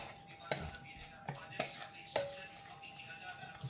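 Ingredients for Valenciana being sautéed in a pan: a soft sizzle runs underneath while a spoon or spatula strikes the pan three or four times at uneven intervals, close by.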